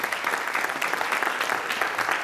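Steady applause from an audience at a hypnosis show, many hands clapping continuously at moderate volume, a crisp dense patter with no voices over it.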